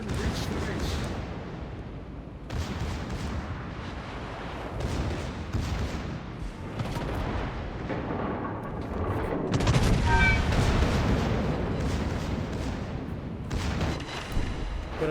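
Secondary guns of the Tirpitz battleship booming in World of Warships, repeated heavy thuds and blasts at irregular intervals over a steady rumble of sea and engine, with someone talking throughout.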